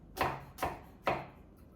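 Three crisp knife chops through onion on a cutting board, cut into coarse flaky pieces with a very sharp blade, evenly spaced, close and fairly quiet, with nothing else around them.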